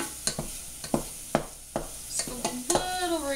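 Onions sauté in a pan with a soft sizzle, broken by repeated sharp scrapes and taps of a utensil stirring, then a brief faint voice-like murmur at the end.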